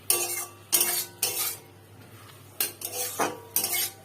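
Spatula scraping and clinking against a pan while greens are stirred with salt and turmeric, in several bursts of metallic stirring with short quiet gaps between.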